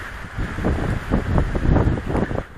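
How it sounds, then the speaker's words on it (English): Strong outdoor wind buffets a microphone near mountains, a continuous low gusty rumble that swells and eases in short surges. "Oh, this wind."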